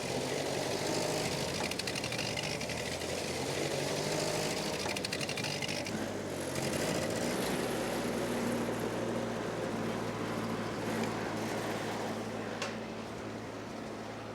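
A tractor engine idles steadily and close by, a low continuous rumble with a constant hum that runs unbroken for the whole stretch, with no talk over it.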